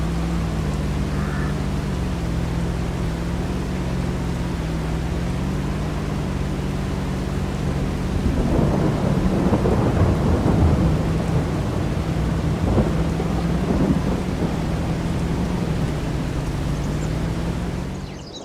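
A thunderstorm in Farming Simulator 22: steady rain hisses under a low droning hum, and a long rolling peal of thunder builds midway and rumbles on for several seconds before fading back into the rain.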